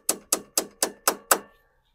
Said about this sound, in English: when it's down all the way, you should be able to hear the pitch change on the socket